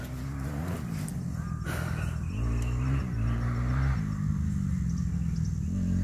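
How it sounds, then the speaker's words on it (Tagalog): An enduro motorcycle revs its engine as it approaches at an endurocross race in Bueno, Capas, Tarlac, Philippines, a low rumbling drone that swells and shifts in pitch throughout, with faint voices in the background. "May paparating na naman na motor, parang tunog pa lang, production na."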